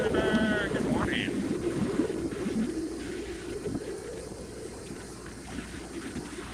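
A boat cruising across the water toward the Magic Kingdom at Walt Disney World: a steady low rumble under constant wind buffeting the microphone, with a brief bird chirp near the start.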